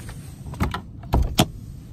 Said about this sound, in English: First thing I need to do is pop the bonnet, so the cable's down here.